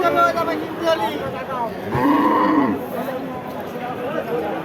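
At the Barobazar cattle market in Jhenaidah, a bony, underfed cow lets out one drawn-out moo amid a steady murmur of nearby voices and market bustle.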